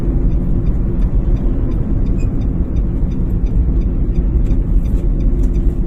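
Driving school car rolling along a road during a lesson, a steady loud engine and road rumble running throughout without pause.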